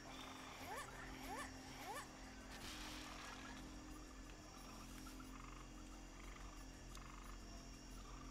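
Vally Croaker frog creatures croak in the Made in Abyss game, a few rising croaks early on over a constant low ambient drone, fairly faint and distant.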